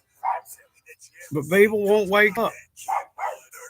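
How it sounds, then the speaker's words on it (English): A dog on guard lets out a drawn-out whining, whimpering yowl, close and moderately loud, between short bursts of a person talking. "I'm sorry about the dog, y'all, but she's just on guard today."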